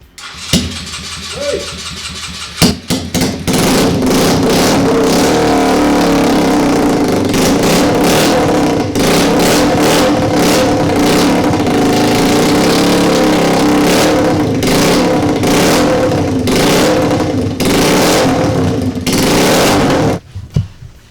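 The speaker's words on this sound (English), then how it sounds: "it's time to run the engine" A freshly rebuilt custom motorcycle's engine cranks, catches and roars to life, then runs loudly and continuously with repeated throttle revs, close by.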